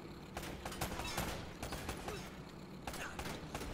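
Rapid gunfire in the video game Uncharted: Drake's Fortune, dense overlapping shots and bursts crackling continuously at low level, with no talk over them.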